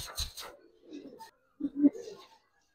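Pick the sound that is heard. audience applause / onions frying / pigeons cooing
pigeons cooing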